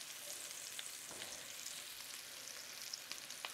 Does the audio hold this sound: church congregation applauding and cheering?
no